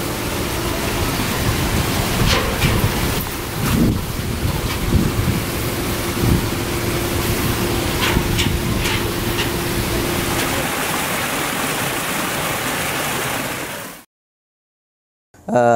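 Brown industrial wastewater from a seasoning factory outlet pours into the Brantas River in a steady, loud broadband rush that continues without a break and then cuts off near the end.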